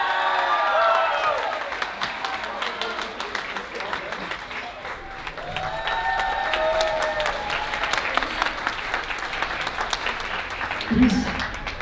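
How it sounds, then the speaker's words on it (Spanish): Guests at a quinceañera celebration clap and cheer in a lively room, the applause rising and falling over background music while people talk. "un fuerte aplauso ahí para nuestra princesita de la noche, Cristel."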